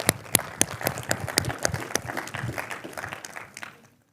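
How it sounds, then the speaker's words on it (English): Audience at a pastors' leadership training session applauds the interns, a dense wash of hand clapping with sharp individual claps that swells, holds steady, then fades out near the end. "Can you give all the interns a hand clap this morning?"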